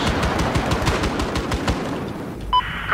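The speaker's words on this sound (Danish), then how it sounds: "Jeg kan bare høre en kugleregn." Rapid automatic gunfire from the video game Battlefield 4 rattles in a dense, continuous burst of close shots, thinning near the end where a short electronic tone sounds.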